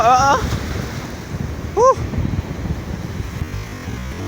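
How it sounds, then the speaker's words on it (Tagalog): Big sea waves at a beach, a steady rushing surf and wind noise throughout, with a person's short exclamations heard over it. "laki ng alon guys"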